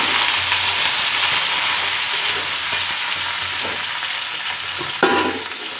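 Cut bottle gourd frying in oil with potatoes, a loud, broad hiss of sizzling held steady throughout, with a few soft stirring knocks and one sharper scrape near the end.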